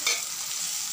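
Turmeric, coriander and cumin powder are sautéed in a pan over a low flame, heard as a brief soft frying hiss with a light scrape of stirring.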